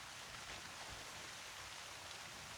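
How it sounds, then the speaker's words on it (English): Steady rain falling outdoors, a soft continuous wash that stays even and fairly quiet throughout, with no voices. "You're gonna hear some rain in the background."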